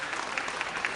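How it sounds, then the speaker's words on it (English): Dense, steady applause from an audience after a 67-member community band's concert performance, continuous broadband clapping with small swells, no talk. "Let's show our appreciation with another round of applause."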